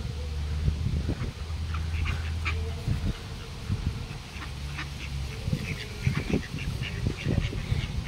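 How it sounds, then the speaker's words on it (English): A flock of ducks hurrying in to be fed, with a steady chorus of quacks and honks, some close and loud, others further off, going on throughout. "So, the ducks have realised that we have come."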